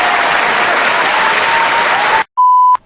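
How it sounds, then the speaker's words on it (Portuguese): A loud, close burst of crowd applause rolls on steadily for about two seconds, then cuts off abruptly into a short silence followed by a sharp electronic beep tone. "eu mereço uma salva de palmas"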